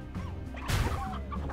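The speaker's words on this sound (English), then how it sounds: "Oh, chickens." A few short clucks from chickens in Slime Rancher, close and fairly quiet, with a sharp sound burst in the middle.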